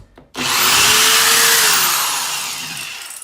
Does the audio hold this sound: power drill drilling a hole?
yes